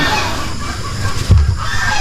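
Chickens cluck on a farm where hens are brooding eggs, a few calls over loud, constant rain-like background noise.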